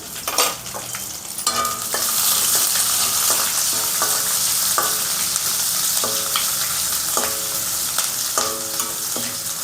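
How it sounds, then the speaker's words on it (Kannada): Onions sizzle hard in hot oil for vegetable fried rice, a loud continuous frying hiss broken by repeated metallic scrapes and clanks as a ladle stirs the pan. "ಈರುಳ್ಳಿನ ಹಾಕಿ ಇವಾಗ ಸ್ವಲ್ಪ ಅದನ್ನು ಬಾಡಿಸ್ಕೊಳ್ಳೋಣ"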